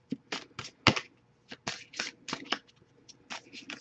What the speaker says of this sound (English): I'll give it a couple more shuffles, and if nothing pops up, nothing pops up.